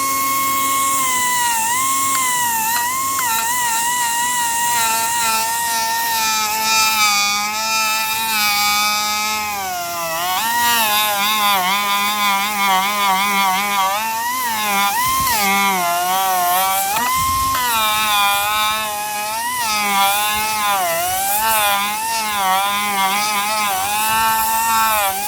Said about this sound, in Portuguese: agora eu vou dar o acabamento com a lixadeira